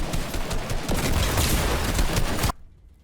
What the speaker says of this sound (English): the AUG is literally the old classic, only 2 bullets at a time, only 18 bullets in a clip, and it's still really powerful